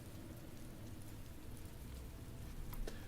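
Rain in the video game Anarchy Online, a steady soft hiss of falling rain with a few faint drips, quiet and continuous with no voices.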